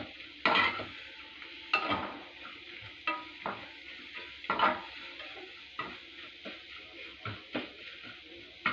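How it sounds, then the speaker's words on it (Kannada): Tomatoes and coriander fry in a pan while a utensil stirs them, giving repeated scraping clinks and soft sizzling at an uneven rhythm, close and fairly quiet. "ಸ್ವಲ್ಪ ಕೈ ಆಡಿಸ್ತಾನೆ ಇರಿ ಸ್ವಲ್ಪ ಟೊಮೊಟೊ ಮೆತ್ತಗಾಗೋವರೆಗೂ ಮಾಡಿಕೊಳ್ಳಿ ಸಾಕು"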